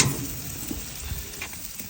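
Meat sizzles on a grill at a holiday cabin site, a steady loud crackling fry close by, alone without talk.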